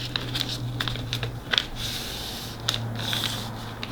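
A Bounty paper towel sheet being folded into an accordion pleat gives soft crinkling rubs and a few sharper papery crackles, close and quiet over a low background hum.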